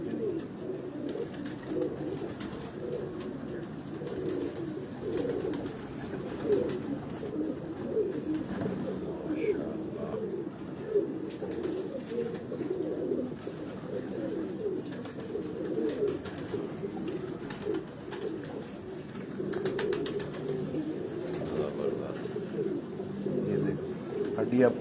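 Pigeons coo steadily on a Lahore rooftop at night, a continuous low murmur of overlapping calls with voices faintly underneath.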